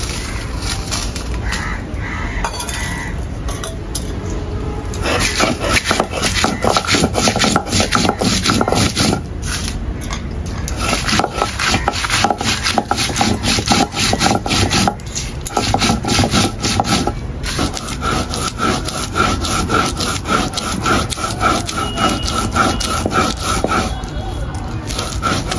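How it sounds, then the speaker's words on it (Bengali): Dried red chillies ground by hand on a grinding stone for a fish curry masala: steady, repeated rough scraping strokes of stone on stone, close and rhythmic, with a crow cawing and faint voices in the background. "এখন শুকনো মরিচ বেটে নেব।"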